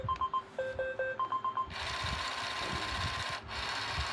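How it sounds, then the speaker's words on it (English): An iRobot Roomba 900 robot vacuum runs its side brush diagnostic test. A quick series of electronic beeps is followed by a steady, close motor whir that continues to the end. "after the vacuum test, you have the side brush test"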